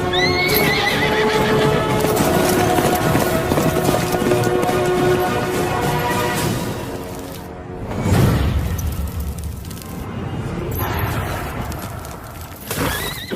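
A horse neighs loudly and repeatedly with clip-clopping hooves in a dramatic film scene, the sound full and close with swells of movement throughout.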